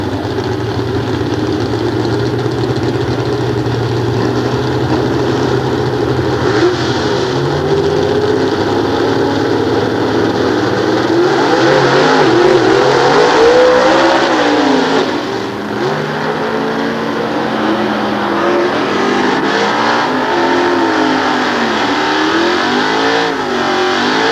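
A Ford-powered 202 cubic inch drag racing car runs in the left lane at a 1993 nostalgia drag meet at Sears Point, its engine roaring loudly and revving up and down through several surges of pitch, with no talk.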